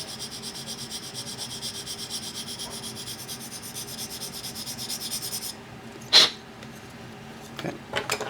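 A sanding stick smooths small burrs and edges on a model seat part toward a flat mating surface, giving a faint, steady rubbing hiss with a few sharper scrapes near the end.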